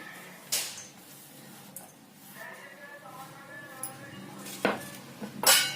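Onions, green chilies and ginger-garlic paste mixed together for bhaji batter in a bowl, with soft stirring scrapes and a few sharp clinks of utensil against the dish, close by.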